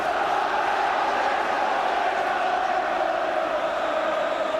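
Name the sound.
football crowd reacting at Manchester City match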